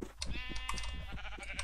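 A video-game sheep gives a short, quavering bleat with a strong buzzy vibrato, followed by a few softer bleats from nearby animals, all fairly quiet.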